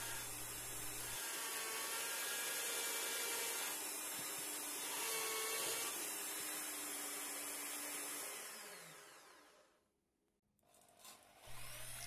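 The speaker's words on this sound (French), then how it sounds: "Elle est découpée à la scie sauteuse." A jigsaw cuts a letter slot into the wooden roof of a homemade ballot box, a steady loud buzzing rasp that runs unbroken for about nine seconds, then tapers off and stops.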